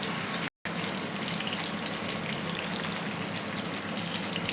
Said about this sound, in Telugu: చూసారా ఎంత బాగా ఫ్రై అవుతున్నాయో.